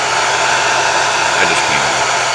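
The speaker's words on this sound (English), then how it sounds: "The computer fan just came on my FlexMax." Cooling fan of a FlexMax solar charge controller running in a solar shop, a constant, loud broadband whoosh that holds steady throughout with no talk.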